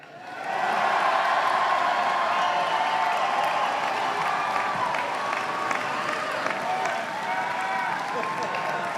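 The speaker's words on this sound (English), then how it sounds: "If you think that South Dining Hall has the best food, please clap" A university commencement crowd claps and cheers as a show of hands for a dining hall, rising quickly into a broad steady burst of applause that continues for several seconds.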